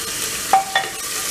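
Ginger garlic paste being sautéed with chopped onions in a pan, a soft, steady sizzle with two brief scraping stirs, close and fairly quiet.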